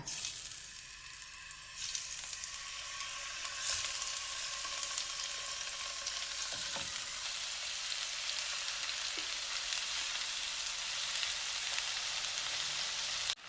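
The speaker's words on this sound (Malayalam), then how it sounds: "മീൻ മാരിനേറ്റ് ചെയ്തിട്ട് ഒരു പതിനഞ്ച് മിനിറ്റായി ഇത് നമുക്കൊന്ന് വറുത്തെടുക്കാം" Marinated fish pieces fry in hot oil in a pan, giving a loud, continuous sizzling crackle that stays even for over thirteen seconds, with one or two faint knocks and no voices.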